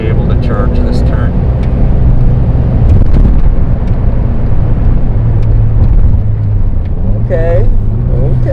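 A 1983 Lotus Esprit Turbo charges hard through a turn, its loud engine roaring steadily up close with shifting pitch, while people talk over it.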